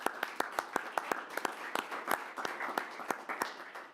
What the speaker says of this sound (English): Perhaps a small round of applause.